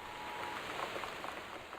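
Steady rain from the game Gone Home, a soft continuous patter and hiss at low level with no voices.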